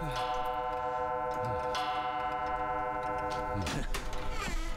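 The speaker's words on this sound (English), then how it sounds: "creepy grandfatherish clocks" A grandfather clock ticks in a mansion in the 2017 Black Mirror game, steady faint ticks under a sustained tonal drone, with a few sharper transients near the end and no talking.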